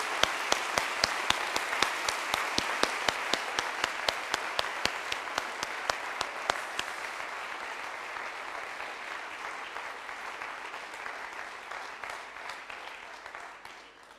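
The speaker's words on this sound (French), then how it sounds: "vous pouvez applaudir une nouvelle fois nos lauréats et nos lauréates de cette soirée" The audience at a business awards evening in Creuse gives its prize winners a long, sustained round of applause. It opens with sharp rhythmic group clapping, then settles into a softer, steady wash of many hands that fades out gradually.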